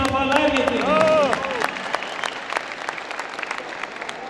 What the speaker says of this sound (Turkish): Sayın Dekanımız birçok alkış aldırdı